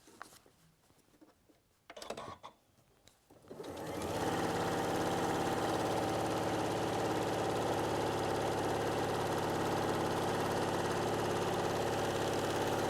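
A sewing machine stitches a cushion. Faint handling rustles come first, then a loud, steady motor whir with rapid needle clatter runs on without a break, close by and alone.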